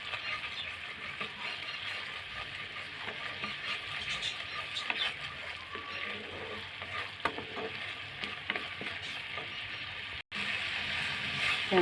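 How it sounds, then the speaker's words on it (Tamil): Homemade jam simmers on low heat in a pan while it is stirred continuously. A steady bubbling sizzle and scraping stirring sounds fill the clip, with a brief break near the end. "இந்த டைமில் தான் சிம்மில் வச்சுட்டு நல்லா கலக்கிக்கிட்டே இருக்கணும். இல்லைன்னா அடி பிடிச்சிடும்."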